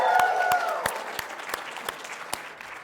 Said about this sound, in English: I want you to give a big welcome, a big cheer to those watching online this morning